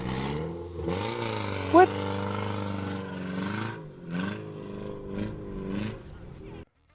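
A car engine drones and revs steadily at a UK car jump event after a jump, fairly close, with a brief spoken word over it.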